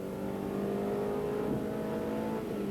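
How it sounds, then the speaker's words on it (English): A race car's engine pulls hard from inside the cockpit as it accelerates uphill toward a start-finish line at a British motorsport event, a loud, steady, dense roar with rising harmonic tones throughout. "we go in car with him now as he accelerates up the hill towards the start-finish line"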